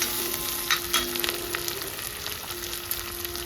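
Potato frying in a pan for an Andhra-style fry, a steady close sizzle with scattered crackles and light spatters, no talking over it.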